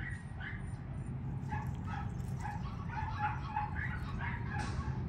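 Hazel's Schnauzer puppies yip and whimper in a steady run of short, high cries over a dense, constant background hum, close by and fairly loud.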